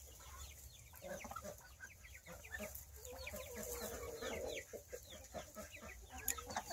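Chickens cluck repeatedly around a barnyard where ducklings are also kept, a scatter of near and farther clucks and calls with no talking.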